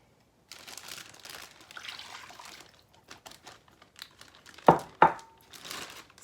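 Crinkling plastic zip top bag being handled and sealed around a liquid marinade for pork tenderloin, soft rustling and squishing near the microphone, ending in two sharp snapping clicks as the seal closes.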